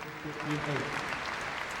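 A crowd applauds the winner of the 1999 Cathay Pacific Hong Kong Open squash final, a steady wash of clapping with a voice briefly audible through it.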